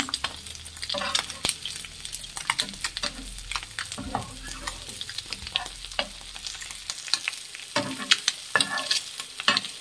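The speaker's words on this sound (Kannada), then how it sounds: "ಒಂದು ಕಡೆ ಬೆಂದಿದೆ, ಒಂದು 2 ನಿಮಿಷ ಬೇಯಿಸಿ, ಸಾಕು. ಎಲ್ಲ ಹಿಂಗೆ ತಿರುವು ಹಾಕ್ಕೊಳ್ಳಿ." Spiced egg pieces sizzle in a pan while being stirred and turned, with scraping and clinking of the utensil against the pan throughout, close and fairly quiet.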